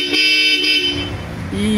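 A Bosch Europa horn fitted to a Nissan Navara blares loud and close in one short honk whose pitch shifts toward the end.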